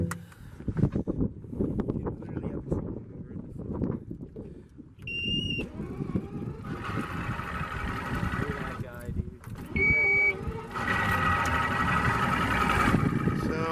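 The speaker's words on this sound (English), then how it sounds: "About to start up the gas motor." The gas outboard motor on a 1991 Crestliner ProAm boat is started, with a voice talking over early rumbling before a steady, droning engine note takes over in the second half.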